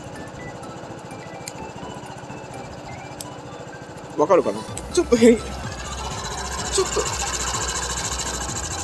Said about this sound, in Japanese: スイッチ入れるとアイドリングが落ちるのか、